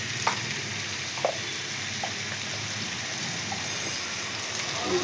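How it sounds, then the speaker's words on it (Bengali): Spices with a half spoon of turmeric frying in a pan with onion, garlic, ginger and cumin, giving a steady low sizzle throughout with a few faint clicks of stirring. "ভাজা ভাজা হচ্ছে।"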